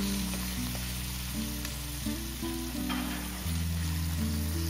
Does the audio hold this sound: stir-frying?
yes